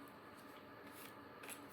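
Playing cards are shuffled by hand, a faint, steady papery riffle heard alone without speech.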